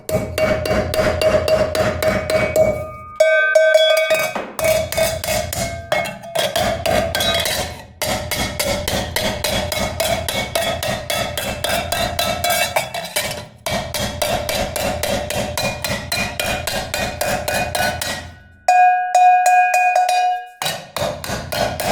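Steady, rapid hammer strikes ring out on a handmade Tonara cowbell in a Sardinian artisan workshop, loud and close, with metallic ringing tones between blows and a few brief pauses.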